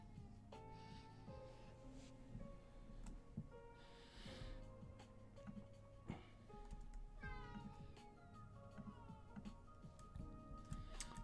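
A house cat meows repeatedly up close, drawn-out and plaintive cries spread across several seconds, with light ticking and room noise in the background and no talking.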